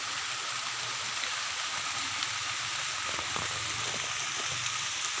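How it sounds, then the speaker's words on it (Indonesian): Steady outdoor rain in a bamboo area under heavy dark clouds, a constant broad hiss of falling drops with no pauses, fairly faint and even throughout, with no voices. "di tengah-tengah situasi hujan ya, cuaca hujan ya teman-teman"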